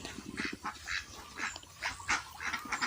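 At a Thai farm pond where ducks are brooding eggs, a flock keeps up a steady run of rough, raspy quacks, overlapping and fairly close, with low rumbling noise underneath.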